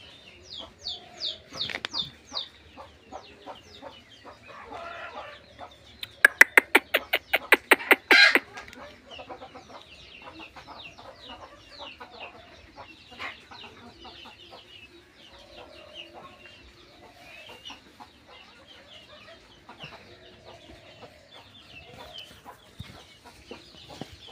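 Desi laying hens and brooding hens with chicks clucking in a backyard coop, a close, busy chorus of repeated clucks and squawks with a loud burst of rapid cackling early on.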